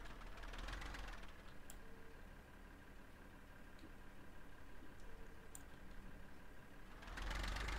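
A tractor engine idles steadily in the Farming Simulator 15 game, a constant mid-pitched rumble with light knocking that holds throughout, swelling louder at the start and end.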